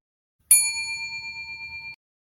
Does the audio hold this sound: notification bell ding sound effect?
yes